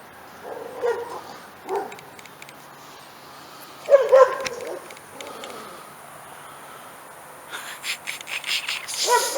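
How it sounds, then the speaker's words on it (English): A neighbor's dog barks from some distance in scattered bursts, loudest near the middle, while insects chirp steadily in the background. "The neighbor's dog's not happy about that one bit."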